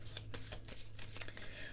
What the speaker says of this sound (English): Once I stop shuffling these cards